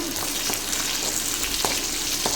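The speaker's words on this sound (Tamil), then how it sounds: "சின்ன வெங்காயம் சேர்த்ததுக்கப்புறம் நல்லா கிளறி விட்டுக்குங்க" Small shallots and chopped curry leaves sizzle loudly in hot oil in a pan, with a continuous crackling fry broken by a few sharp stirring scrapes.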